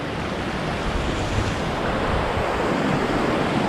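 A mountain river roars continuously close by during a backpacking river crossing on the Four Pass Loop, Maroon Bells, a broad, steady wash of noise mixed with some wind buffeting on the microphone.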